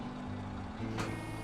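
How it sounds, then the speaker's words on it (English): A metal detector scans in the SnowRunner truck game, a brief electronic burst rising over a steady low truck engine drone with faint beeping tones. "So if we activate our metal detector,"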